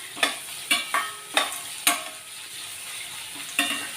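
Upma mixture is stirred and cooked in a pan: about seven distinct scraping strokes of a spatula, spaced irregularly over a soft continuous sizzle, close and fairly quiet, with no talking.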